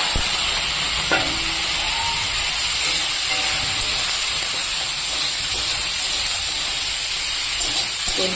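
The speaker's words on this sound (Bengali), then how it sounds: "এবার আমি এখানে ধুয়ে রাখা কেটে রাখা বটবটিটা দিয়ে দেব" Washed, cut flat beans (botboti) drop into hot oil in a wok, setting off a steady close sizzle and hiss that runs through without speech.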